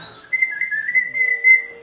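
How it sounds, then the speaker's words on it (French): A small hand whistle is blown in one sustained, steady high tone lasting more than a second, clear and close, with no talk over it. "donc ça, c'est le petit sifflet"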